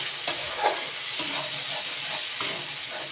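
Ground coriander, cumin and Kashmiri chilli powder fry in a pan with a steady sizzle, while a spoon stirs and scrapes through the spices in a few clear strokes, all heard close up without any talking.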